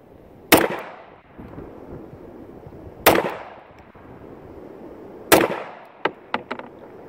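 A firearm shoots ammunition loaded with 70-year-old primers: three loud, close gunshots a few seconds apart, followed by a quick run of lighter metallic clicks from the action.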